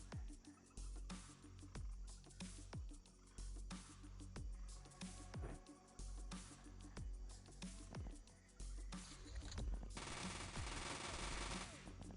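Uzi automatic gunfire in the video game XPiratez, repeated rapid bursts of shots, with a denser burst near the end.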